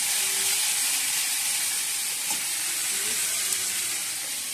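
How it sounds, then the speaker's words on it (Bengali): Bitter gourd frying in ghee in a home kitchen pan, a steady, close, continuous sizzle and hiss with no pauses. "উচ্ছে আর ঘি করলা আছে, ওই ভাজা দিয়েছি"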